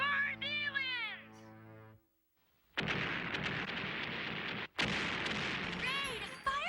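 Cartoon warships fire a loud barrage of cannon shots at aliens, a dense rumbling blast that starts after a brief pause and runs for several seconds. A voice speaks at the start, then cuts out, and the firing resumes after a short break.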